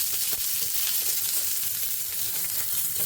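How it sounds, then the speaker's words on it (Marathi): Bitter gourd sizzles in oil on a hot griddle, a steady crackling hiss with small pops, close and continuous with no voices. "आपलं तवा तापलं, याच्यात मी कारली टाकली"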